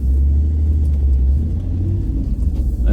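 An off-road vehicle with its reduction gear disengaged drives on along a mountain track, giving a loud, steady low engine rumble close by.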